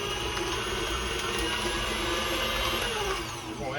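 An electric mixer beats room-temperature cream cheese and butter, giving a constant loud, high whir with no breaks that holds for several seconds and dips slightly near the end.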